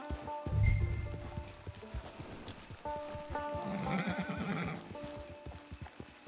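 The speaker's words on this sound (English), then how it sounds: "Get your horse." A horse in Red Dead Redemption 2 whinnies loudly up close, then its hooves clip-clop in a quick rhythm across the ground, with a second whinny partway through.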